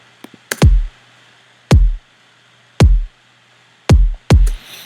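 An FL Studio drum loop without a limiter plays as sparse punchy kick hits, each with a sharp click and deep boom, spaced roughly one second apart with a few soft ticks at the start, alone and loud.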